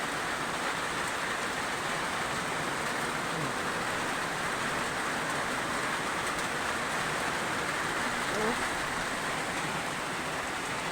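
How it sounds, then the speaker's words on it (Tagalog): Heavy rain pours steadily and loudly in a rural province setting, a dense unbroken hiss filling the whole stretch with no speech. "Maraming lakas ng ulan mga kaidol."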